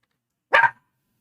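A single short dog bark, loud and close, standing alone in silence.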